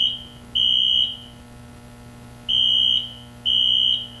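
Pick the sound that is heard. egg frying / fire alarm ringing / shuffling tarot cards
fire alarm ringing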